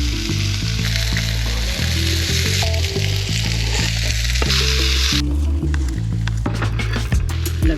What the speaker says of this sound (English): So anyway, on with the stir fry,